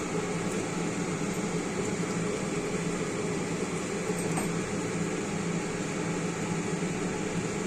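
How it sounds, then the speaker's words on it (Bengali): A kitchen chimney exhaust hood running over a stove while oil heats, a steady, loud, broadband whooshing hum that stays constant throughout, with no talking. "এদিকে চিমনিটা চালিয়ে নিয়েছি"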